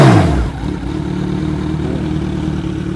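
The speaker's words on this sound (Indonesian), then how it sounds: "suara dari knalpot Austin Racing yang sudah dipasang di motor Z900 ini" A Kawasaki Z900 with an Austin Racing exhaust and 10,000 km on the clock blips its throttle once, then settles into a loud, steady, burbling idle close by with no talk.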